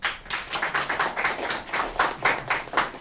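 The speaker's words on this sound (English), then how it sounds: "Please clap for me for that now" Scattered clapping from a small audience at a pest management training session, uneven hand claps in loose bursts that swell and fade, fairly close and moderately loud with no talking.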